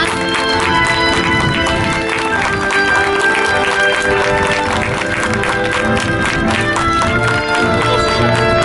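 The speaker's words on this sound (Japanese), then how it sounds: "もう一度盛大な拍手をお願いいたします" Sustained applause from a stadium crowd honouring Nagoya Grampus U15 at a third-place awards ceremony after a JFA Premier Cup semifinal, a dense steady clapping wash mixed with music and murmuring voices throughout.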